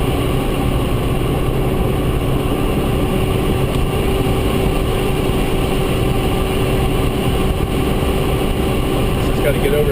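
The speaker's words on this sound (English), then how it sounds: "You can hear the engine working." A car engine labours steadily as the vehicle climbs a steep road over a high ridge in Alaska, a continuous loud drone with road rumble throughout.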